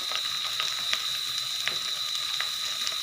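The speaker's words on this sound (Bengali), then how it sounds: "দিয়ে কচুগুলো ভেজে নেব" Taro pieces frying in a pan with salt and turmeric give off a steady, soft sizzle with faint crackles and occasional small ticks throughout, heard close with no voices.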